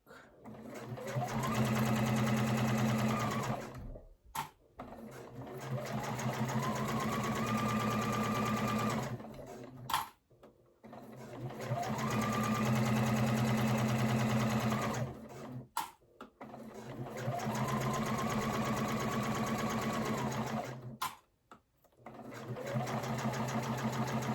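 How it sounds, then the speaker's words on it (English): Sewing machine fitted with a Teflon presser foot stitching vinyl to fabric, running in several long steady bursts of rapid mechanical whirring separated by short pauses, close and loud. "the feed dolls can grab the fabric and then the Teflon foot is gliding over that vinyl"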